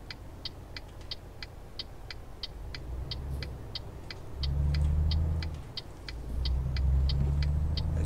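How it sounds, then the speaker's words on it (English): A car passes in the Euro Truck Simulator 2 video game as a low road rumble swells and fades twice, over the steady ticking of a turn indicator, with no talk. "There's a car coming."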